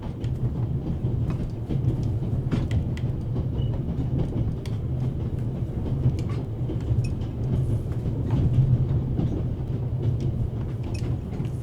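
A train rolls along its rails in the video game The Raven, a steady low rumble with faint rhythmic clatter and scattered clicks, continuous and even, with no voices.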